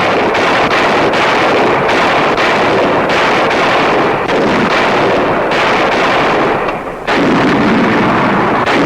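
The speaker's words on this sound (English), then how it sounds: "every day they test the quality of their work with point-blank fire on the proving grounds." Point-blank artillery test firing of shells on wartime proving grounds, with a rapid series of loud, evenly spaced booming blasts roughly every half second over heavy wind-like rumble, no talk.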